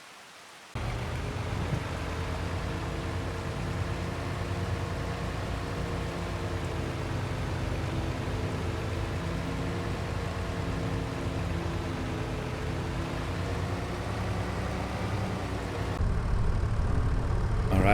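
An International truck engine idles steadily in a farming video game, a dense, unbroken drone that holds for the whole stretch and swells slightly near the end, with no talking.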